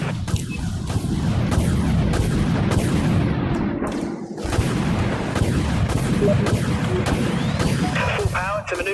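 Primary weapons on a giant spaceship firing in the space combat game Dreadnought, a rapid, evenly paced series of heavy booming shots over a dense rumbling battle din, with voices talking now and then.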